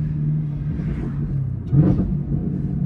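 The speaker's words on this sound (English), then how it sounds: "Let me crack these windows for y'all so y'all can hear that supercharger a little bit." A Camaro ZL1 1LE with a supercharged engine rumbles in five o'clock city traffic, heard from inside through cracked windows, a steady low drone that swells into a brief rev near the end.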